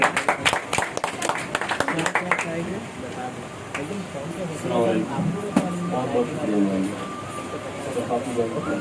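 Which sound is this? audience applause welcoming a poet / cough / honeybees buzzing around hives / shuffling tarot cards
audience applause welcoming a poet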